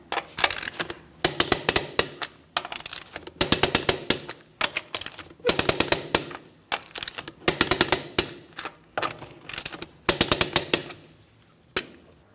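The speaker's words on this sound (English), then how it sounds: "Let's go ahead and torque these lug nuts to that 100 foot-pounds in a crisscross manner." Torque wrench clicking on lug nuts of a 2004-2008 Pontiac Grand Prix front wheel, tightened to 100 foot-pounds in a crisscross pattern: close metallic ratcheting bursts in regular clusters, each nut ending in a sharp click.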